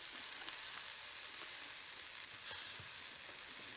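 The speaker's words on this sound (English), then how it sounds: "now we're going to add our chilli and our ginger" Chilli and ginger frying with cumin in a pan give a steady, close sizzle that stays even and crackly throughout, with no talking.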